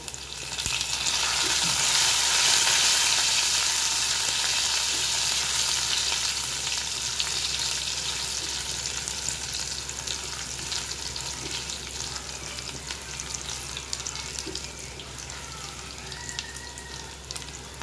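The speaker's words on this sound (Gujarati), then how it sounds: "લસણ કકડાવી લીધું બરાબર." Crushed garlic, dried red chilies and curry leaves frying in hot oil, giving a steady, loud sizzle with occasional stirring that eases slightly after the first few seconds, no voices.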